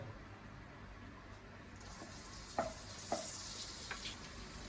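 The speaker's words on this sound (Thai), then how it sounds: "ตอนนี้ขั้นตอนการผัดพริกก่อนให้เขาหอม" Red chili, garlic and curry paste stir-frying in a pan, a soft steady sizzle with a few sharp scrapes of a utensil against the pan, close and fairly quiet.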